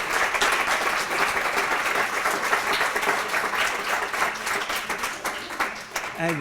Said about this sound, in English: Let's have a round of applause for the students